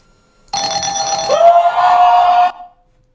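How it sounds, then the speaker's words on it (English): A bright synthesized bell tone used in Japanese-styled music production rings for about two seconds, loud and sustained with a shimmering upper layer, then cuts off cleanly into silence. "Hey, the bell sound."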